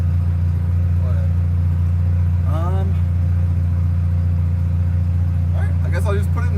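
A car engine idles steadily inside the cabin with a strong low hum, the car in first gear ahead of its first drive and vibrating slightly; brief faint chirps come over the continuous drone.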